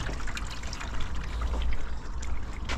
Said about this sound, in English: get the bin filling up with water